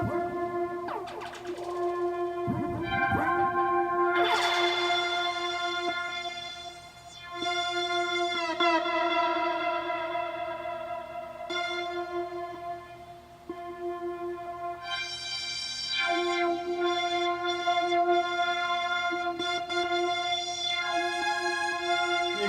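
Bright, bell-like Volca FM synthesizer tones run through a Chaos pad, with shimmering, swirling effects that sustain and shift in pitch, sharp metallic attacks over a continuous droning layer.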